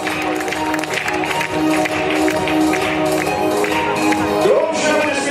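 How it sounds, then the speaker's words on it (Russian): An audience applauds women prize winners of a marathon distance at an awards ceremony. Steady, sustained clapping from a crowd carries throughout, with tonal background sound mixed in. "Громче аплодисменты."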